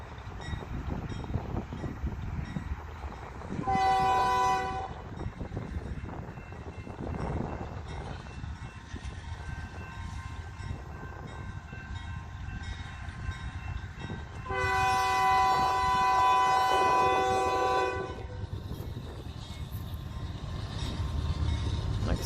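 A Union Pacific westbound freight train rolls past close by with a steady rumble and clatter of cars, its horn blasting loudly in two long blows, one early and one later in the pass.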